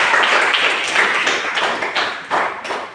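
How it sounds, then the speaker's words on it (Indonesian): A room of students clapping for all the groups in a classroom lesson, a dense, steady patter of many hands, loud and close, easing slightly toward the end with no talk over it. "berikan aplaus untuk semua kelompok"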